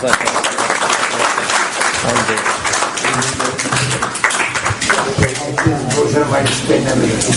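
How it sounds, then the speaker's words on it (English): A lecture audience applauds speaker Steve Stone after a Q&A session. The clapping is loud and dense and runs throughout, with voices mixed in under it. "Round of applause for Steve Stone."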